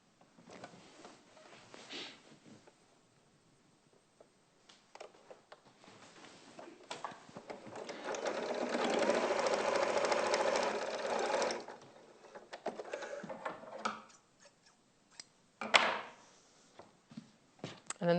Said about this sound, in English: So then I'm going to sew this one to this other side of the nose.